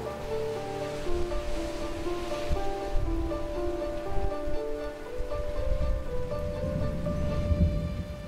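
Steady heavy rain falls in a coastal setting, a dense continuous hiss and patter with a low rumbling undertone like surf, and a faint musical tone running beneath it.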